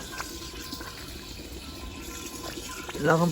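Water runs and gurgles into an old gas bottle at a low, steady level, with a voice speaking over it toward the end.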